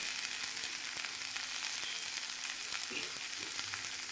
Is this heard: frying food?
yes